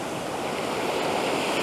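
Ocean waves crashing against a rock ledge: steady, loud roaring surf with a broad hiss of water and spray, continuous throughout with no voices.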